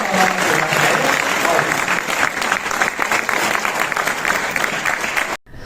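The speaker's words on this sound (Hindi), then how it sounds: "आप जोरदार तालियों के साथ" Audience at a Hindi poetry recital (kavi sammelan) breaks into loud, sustained applause, dense clapping from a large crowd continuing for several seconds before cutting off abruptly at the end.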